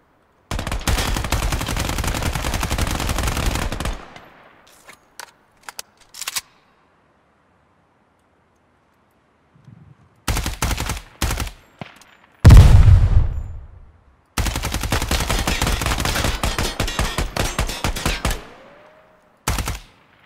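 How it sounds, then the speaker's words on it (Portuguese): An enemy in the Ground Branch tactical shooter fires long, rapid automatic bursts from above a gallery, loud and close. Sharp single shots are scattered between the bursts, and the shooting breaks off into near silence before it resumes. "Tá em cima da galeria, tá atirando em mim."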